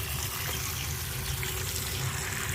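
Olives for brine curing are rinsed under a running kitchen tap, with a steady, close gush of water splashing for the whole stretch, no voices over it.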